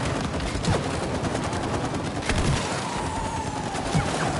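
Rapid gunfire while shooting enemies in It Takes Two, a dense continuous fusillade of shots with a few heavier cracks standing out, loud and close throughout.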